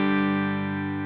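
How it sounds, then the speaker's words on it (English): Clean electric guitar with the pedal bypassed rings out as a single sustained chord, close and full, decaying slightly over about a second, with no voices. "So here's my clean sound with the pedal bypassed."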